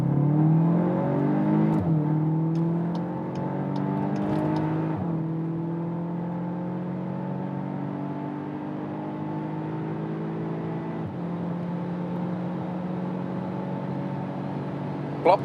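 A 320-horsepower VW Arteon R Shooting Brake accelerates hard on a German Autobahn, its engine drone rising steadily through several gear changes with rising pitch and a constant interior road hum.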